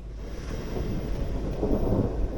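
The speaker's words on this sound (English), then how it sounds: "I can hear the thunder" Low, rumbling thunder rolling in the distance, a deep sustained growl with some wind noise, no voices.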